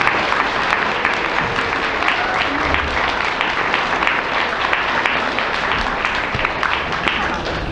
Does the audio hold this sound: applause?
yes